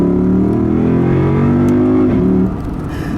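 A 2012 Lexus IS F accelerates hard up close, its loud engine note climbing in pitch for about two and a half seconds before easing off, with no voices.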